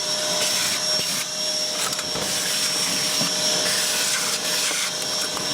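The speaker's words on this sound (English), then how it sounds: "see a cheap vacuum cleaner on the side of the road and the motor's still good" A cheap roadside-salvaged vacuum cleaner, upgraded with a more powerful motor, runs with a loud, steady high-pitched whine and airflow roar close by, unbroken throughout with no talk.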